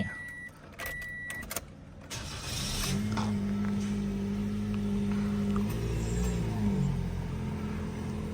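A Toyota Yaris Ativ 1.2 cranks briefly and its engine catches, settling into a steady, low idle heard from inside the cabin, preceded by a few clicks and beeps.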